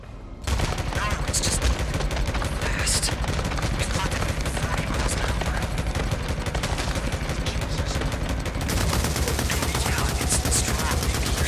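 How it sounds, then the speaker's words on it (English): Rapid, continuous LMG machine gun fire from the video game Days Gone rattles loud and dense through most of the stretch, an unbroken burst of shots that barely pauses, with a louder surge near the end. "As the fight began, I pulled out an LMG,"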